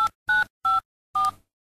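Four short telephone keypad tones beep in an uneven rhythm, clear and close, with no voices.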